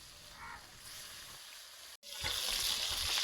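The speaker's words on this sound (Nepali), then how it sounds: "तेलमा राखेर यसरी चाहिँ फ्राई गर्नु।" Fish sizzles and spatters as it fries in hot oil, village style, a steady close crackle that briefly cuts out and then returns louder.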